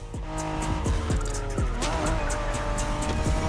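A 1990s Honda NSX sports car races in a video game, engine droning as tires squeal repeatedly through quick skids and corner slides, loud and close throughout.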